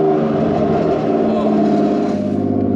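A rough Nissan R32 Skyline (EW32) engine holds high revs, bouncing against the rev limiter with a loud, buzzing, pulsing drone that dips at the end, heard from close by as voices talk over it.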